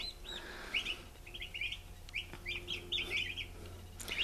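Many high, thin chirps and peeps from young turkeys, overlapping in quick irregular bursts, fairly close, over a low steady background hum.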